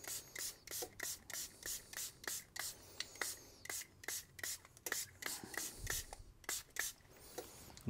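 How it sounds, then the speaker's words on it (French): Sublimation spray hisses onto paper over a protective cardboard sheet in a rapid series of short, sharp bursts, close and fairly quiet, with no talk. "je mets le spray sur cette partie"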